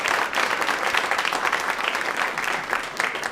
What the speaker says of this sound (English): So a big applause for everybody who takes up here.